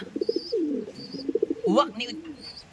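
Pigeons coo nearby in soft, repeated throaty phrases, with a few faint higher chirps over a quiet background.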